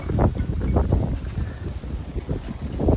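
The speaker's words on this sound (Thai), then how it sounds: "ฝนมาอีกแล้ว โอ้ ลมกำลังพัดแห้งเลย" Strong wind gusting through a campsite during a rainstorm, a loud, continuous rumbling roar that buffets and swells with no voices.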